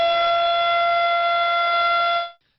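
A loud, steady tornado warning siren tone holds for about two seconds, then cuts off abruptly into silence.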